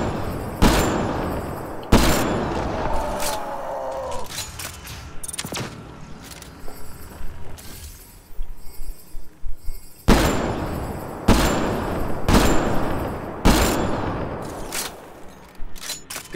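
Enemies and player trade gunfire in the Mass Effect Andromeda video game: a series of sharp, loud shots in irregular bursts, some in quick clusters, over rumbling combat ambience with no talking.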